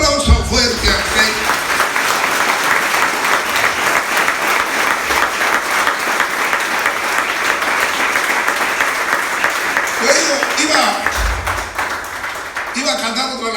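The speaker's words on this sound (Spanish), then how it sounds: "Denle un aplauso fuerte al Rey." Loud, sustained applause from a church congregation at a Spanish-language worship service, a dense wash of clapping lasting over ten seconds with a few voices rising near the end.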